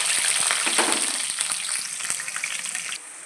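Dried red chilies, onion and green chilies frying with mustard and cumin seeds in a pan, a bright continuous sizzle punctuated by quick stirring taps, easing slightly toward the end with no talk.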